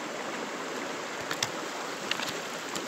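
A river flows nearby with a steady broadband wash of running water, a constant rushing hiss with a few faint clicks and splashes on top.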